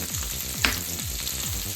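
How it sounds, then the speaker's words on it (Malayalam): Fish frying in oil in a kitchen pan, a steady close sizzle with soft crackles throughout and a brief sharper spatter partway through, no talking. "ഞാൻ മീൻ പൊരിക്കാൻ വെച്ചിട്ടുണ്ട്"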